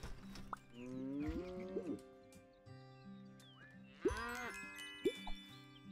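Game cows moo several times on a farm in Big Farm Story, long drawn-out calls standing out loudly over steady background music.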